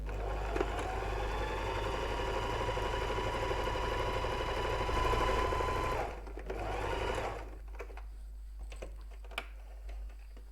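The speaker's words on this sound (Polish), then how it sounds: "Oczywiście dobieramy kolor nitki do koloru szytej dzianiny i zszywamy." Sewing machine running steadily as it stitches knit fabric for a fabric tulip, a dense continuous whir for about six seconds, then stopping, followed by quieter clicks and handling noises.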